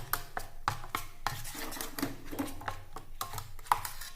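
Oil being spread across a hot pan before making a wheat and oats dosa, with light scraping and metallic clinks repeating at an irregular pace, close and moderately quiet.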